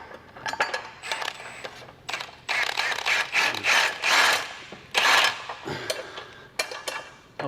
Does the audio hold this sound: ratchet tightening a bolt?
yes